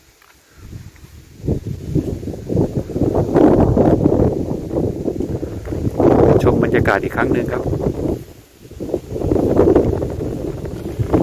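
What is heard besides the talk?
wind blowing at mountain viewpoint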